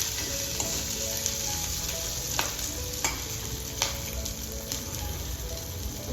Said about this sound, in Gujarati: આ રીતના મરચાંને ખાલી થોડા સાંકળી દેવાના છે તેલની અંદર.